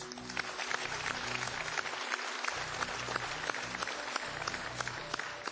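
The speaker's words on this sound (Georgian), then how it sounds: "ამ აპლოდისმენტებისთვის დიდი მადლობა ჩემგან" Audience applause at a live event, a dense continuous patter of many hands clapping that stays steady throughout, fairly distant and without speech.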